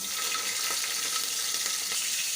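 Red chilli, asafoetida and green chilli temper in hot oil, a dense, continuous crackling sizzle with faint popping, close and steady throughout, with no voices.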